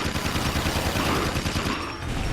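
Rapid gunfire from the video game Jak 2, a dense, steady stream of fast repeating shots, loud and continuous with no pauses.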